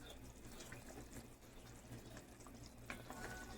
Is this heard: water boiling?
yes